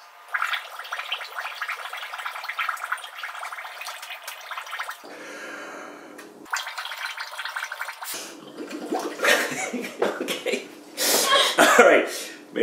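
Carbon dioxide bubbled through a straw into a container of water, with bursts of gurgling and sputtering that grow louder and messier toward the end, alongside brief pauses.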